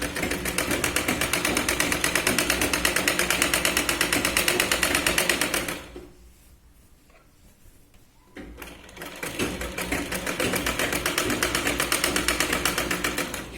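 A sewing machine runs a double line of stitching on a Katori blouse from the sleeve up to the shoulder, a loud steady rapid whir that pauses for about three seconds midway, then resumes at the same pace.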